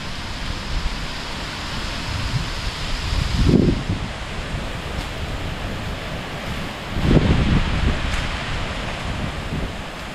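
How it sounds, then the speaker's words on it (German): Wind gusts through the Amazon jungle as a steady roaring wash of noise, swelling twice into stronger surges of rushing air that carry a low rumble. "da kommt die erste Windböe"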